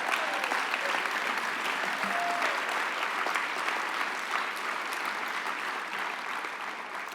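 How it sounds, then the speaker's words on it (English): An audience at an awards event applauds in sustained, dense clapping that stays steady and then tapers slightly toward the end. "Give them a round of applause."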